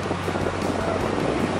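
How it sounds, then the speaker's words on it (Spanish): A steady, dense roar of rushing water from the Salto de Malacatiupán waterfall in El Salvador, loud and continuous with no pauses or voices. "estamos en presencia de la imponente cascada, el Salto de Malacatiupán"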